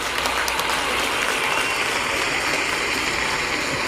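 An audience at a Hakka stir-fry cooking competition final claps steadily, a dense, continuous wash of applause with no talking.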